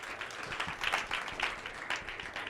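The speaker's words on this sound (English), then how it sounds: "let's give another round of applause" Sustained crowd applause at a fireside chat event, a continuous wash of many hands clapping at medium distance, fairly even in level with slight swells, no talk on top.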